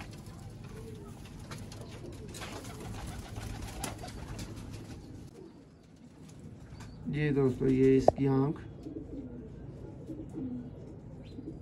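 Teddy pigeons coo in a loft, a male and a breeder female, with a burst of close, layered cooing in the middle over steady background noise while someone talks.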